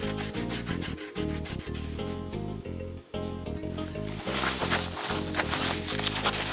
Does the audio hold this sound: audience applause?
no